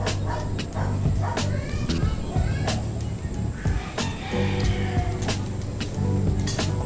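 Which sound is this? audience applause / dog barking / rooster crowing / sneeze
dog barking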